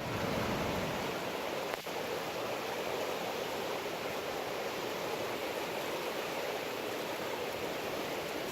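Forest river rapids rush in a constant, broadband roar, steady and fairly close with no breaks.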